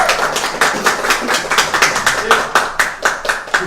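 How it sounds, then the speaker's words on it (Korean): Rhythmic clapping of several hands at a police livestream event, quick sharp claps in a steady beat, close and fairly loud. "박수!"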